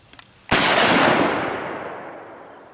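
A single loud rifle shot from a 1909 Mauser firing surplus ammunition outdoors at a pond cracks sharply at close range, then a long echo trails off slowly.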